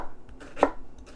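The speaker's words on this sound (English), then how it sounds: "using your sharp knife to slice downward" A sharp knife slicing downward through onions on a cutting board gives a single close, crisp chop against faint background quiet.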